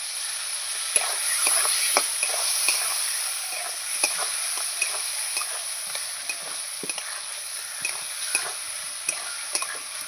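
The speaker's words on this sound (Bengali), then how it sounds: "লঙ্কার গুঁড়ো দিয়ে দিলাম দিয়ে ভালো করে নাড়ব" Spice paste with chili powder is stir-fried in a pan for boal fish curry with potatoes, a close hiss of frying under repeated scraping strokes of a spatula, steady and alone.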